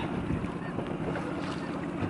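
Sea waves wash against a UK shore in a steady, broadband rush with wind buffeting the microphone, continuous and fairly loud with no talk.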